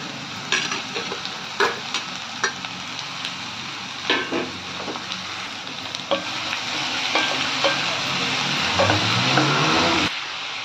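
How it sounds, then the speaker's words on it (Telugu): Bitter gourd pieces fry with onions in a pan, a steady close sizzle broken by repeated scraping stirs of a spoon against the metal, with no one speaking. "ఉల్లిపాయలు అది బాగా వేగాక కాకరకాయ ముక్కలు వేసుకోండి."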